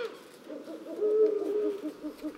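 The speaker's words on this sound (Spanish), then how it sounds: "Llaman los búhos, grandes" Soft, low hooting from an owl, a steady run of repeated hoots with a longer, clearer call in the middle.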